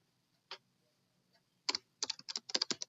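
Keys clatter on a computer keyboard: a single tap, then a quick run of close, crisp keystrokes in uneven clusters over a quiet room.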